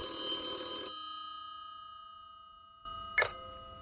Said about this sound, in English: You'll hear the phone ring as whom I presume to be Sean gives FFVR a call.